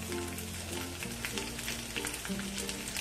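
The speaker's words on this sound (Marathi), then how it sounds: "तेल गरम झालंय. आपण हा बारीक तुकडे करून घेतलेला लसूण घालूया." Finely chopped garlic fries in hot oil with a dense, crackling sizzle, close and continuous, with faint background music.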